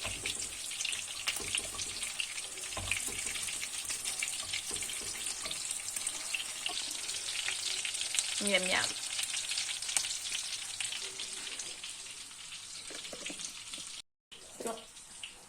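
Homemade chicken nuggets fry in boiling oil in a pan, a loud continuous sizzle with crackles and spits throughout, while a voice speaks briefly over it near the end.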